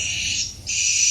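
A swiftlet chick call played through an amplifier: continuous high-pitched, buzzy chirping, briefly dipping in the middle then resuming, loud and steady.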